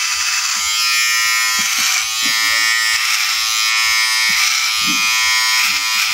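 An electric hair clipper buzzes loudly and steadily as it runs through hair over a comb, with a constant close whine and faint soft snips underneath, no talking.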